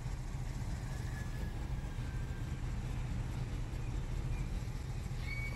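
A 2011 Hyundai Sonata engine idles roughly with the car shaking, giving a steady, dense low rumble and broadband drone that continues unbroken throughout, with no talk.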